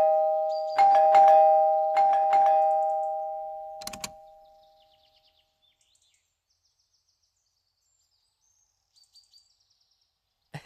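A house doorbell rung twice in quick succession, each loud two-tone chime ringing out and fading into silence, followed by a few faint clicks.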